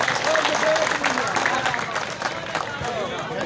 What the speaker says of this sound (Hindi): इसके लिए तालियां हो